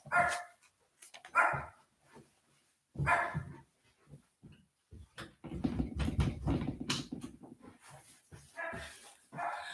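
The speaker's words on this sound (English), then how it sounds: "My dog Petey has been joining in our prayer" A dog barks repeatedly during a home Friday night prayer service, sharp bursts spaced irregularly, with a stretch of lower rumbling sound and whimpering between the barks, fairly close and clear.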